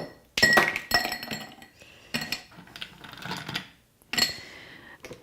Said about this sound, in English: I'm going to fill my glass with ice.